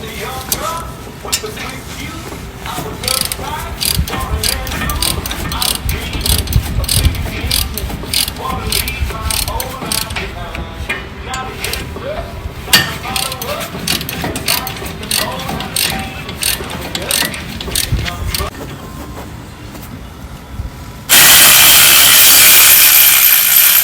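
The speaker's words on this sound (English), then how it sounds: "18mm socket. Remove bracket bolts 1, 2." A ratchet with an 18mm socket ratchets steadily and loudly up close, loosening the front brake bracket bolts on a Ford Explorer, with scraping metal handling and a sudden burst of noise at the end.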